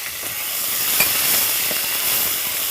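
Curry leaves, dried red chillies, turmeric and ginger-garlic paste sizzle hard in a hot pan, a dense, steady hiss with a few brief crackles, close and loud with no talking.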